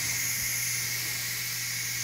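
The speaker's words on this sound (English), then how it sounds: "Get something other than your hand and release the pressure." Steam hisses in a continuous, even jet as pressure is released from a Ninja Foodi pressure cooker while cooking eggs, close and unbroken throughout, with no voices.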